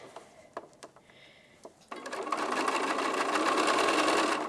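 A sewing machine stitches a Chocolate Chip quilt block made from charm packs, starting after a few soft handling clicks and then running in a steady, continuous whir at close range until the end.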